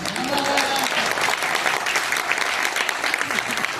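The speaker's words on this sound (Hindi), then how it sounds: "कितने जोश में ताली बजा रहे।" Dense, enthusiastic applause from a crowd at a comic poetry show in a convention hall, many hands clapping loudly and continuously, with some voices faintly audible beneath.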